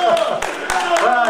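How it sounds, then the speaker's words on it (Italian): Audience at an Italian magic show breaks into brief, dense clapping, steady and close, mixed with voices talking over it. "applauso"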